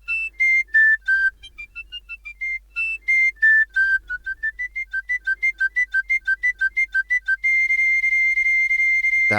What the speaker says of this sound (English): Celtic tin whistle. Celtic tin whistle.